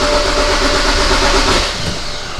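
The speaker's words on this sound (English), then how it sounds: "I'm going to crank it now for a bit" A BMW N54 twin-turbo engine cranking over after a turbo replacement on a right-hand-drive car, a loud continuous mechanical drone that eases slightly toward the end, with no voices.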